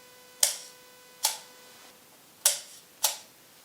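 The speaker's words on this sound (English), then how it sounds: "this is a mechanical shutter which we then can release" An old mechanical camera shutter fitted with a digital back fires four times, each release a sharp, close metallic snap with a short ringing decay, the clicks spaced unevenly over a faint steady hum.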